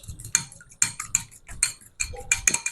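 A single egg being beaten in a bowl for a bread snack, giving quick irregular clicks and taps of utensil on bowl, fairly close and crisp, with no talk.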